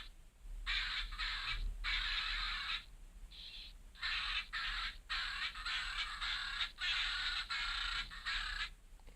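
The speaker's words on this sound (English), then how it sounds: "It's probably meant to be a mixture of a laugh and a parrot growl, but still, it is a bit creepy." A Nici stuffed parrot plush toy plays its recorded laugh-and-growl sound, a harsh, raspy squawking cackle repeated in several bursts with short gaps, fairly faint and alone.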